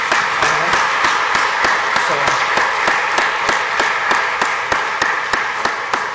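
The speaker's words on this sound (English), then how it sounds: "Let's give her a round of applause." A congregation applauds at a Sunday Catholic Mass in church, steady dense clapping with regular sharper claps running through, loud and sustained for several seconds with no talk.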